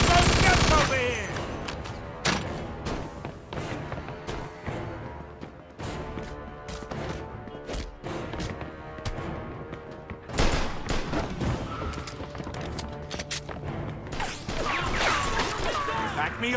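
Gunfire in Mafia 2 Definitive Edition: repeated bursts of shots and sharp impacts crack out loudly in irregular volleys, with voices talking between and over the shooting.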